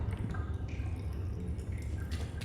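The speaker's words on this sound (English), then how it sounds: "The ambient noise of water dripping." Water drips in an eerie ambient scene from the video game Little Nightmares, with soft scattered drops over a low steady rumble, no voices.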